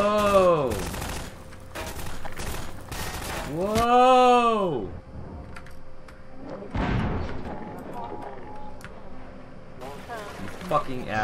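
Gunfire in the Half-Life 2 video game comes in rapid bursts of sharp cracks early on, overlaid by loud gliding vocal swoops, with sparser shots later and a voice talking over the action.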